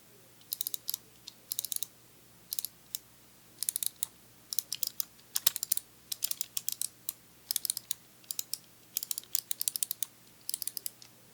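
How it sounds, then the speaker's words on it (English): Tactile keys on a gaming keyboard click up close in a quiet store setting, pressed in rapid clustered bursts of crisp, light clicks separated by brief pauses. "And the hyper responsive tactile clicks."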